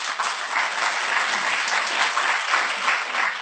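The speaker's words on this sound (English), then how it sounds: "A lot of applause for them." Dense, even applause from a political rally audience honoring civil society actors, filling the whole stretch without pause.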